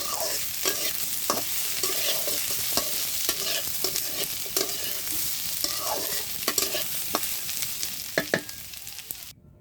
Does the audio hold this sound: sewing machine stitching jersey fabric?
no